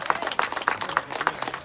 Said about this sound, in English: I know we're clapping right now in pride,